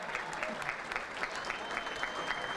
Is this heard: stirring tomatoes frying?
no